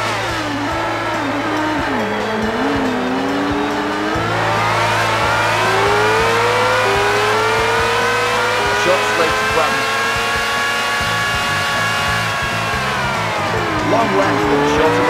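Racing motorbike engine from the Isle of Man TT road race game on PS2 screams steadily and close, its pitch climbing and falling with gear changes and throttle through bends and straights.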